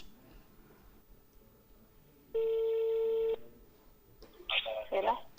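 One long, steady electronic phone ring sounds for about a second in a quiet room, followed shortly by a voice starting to talk.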